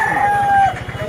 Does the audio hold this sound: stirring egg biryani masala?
no